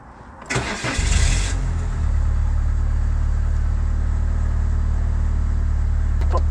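A Citroen Saxo engine cranks and starts from inside the car, a short rise in revs settling into a steady, close, loud idle hum with no talk.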